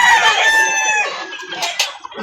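A rooster crows loudly and close at a busy chicken market in Calauan, its long harmonic call dropping in pitch over about a second, followed by scattered clucks and a few shorter calls from nearby fowl.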